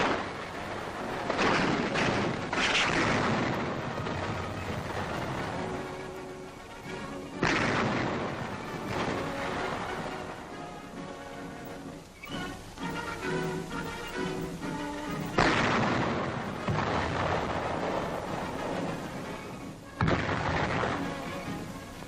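Rifles fire at make-believe tank targets towed along range tracks, in a 1942 army demonstration, as a series of sharp booming reports spaced a few seconds apart. Each shot echoes over the open range, loud and fairly close.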